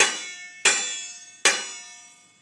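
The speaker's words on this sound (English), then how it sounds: "Strike the plate with a spoon." Three sharp metallic clangs of a spoon striking a metal plate, evenly spaced, each ringing out with a bright, lingering tone that decays before the next strike; close and clear, no voices.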